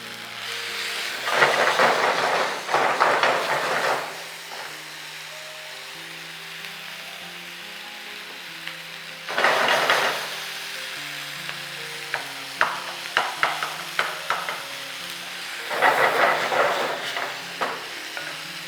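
Chicken mustard satay, some on skewers, frying in cooking oil: loud bursts of sizzling come and go in three main waves, with clattering taps from turning the pieces between them, no voices.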